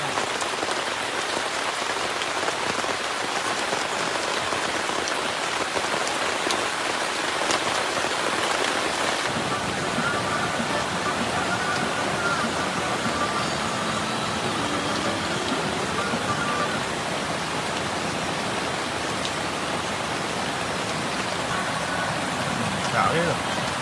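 Heavy rain pours steadily beside a flooded river at a camp, a dense, continuous hiss of drops drumming on surfaces, loud and unbroken, with faint voices mixed in underneath.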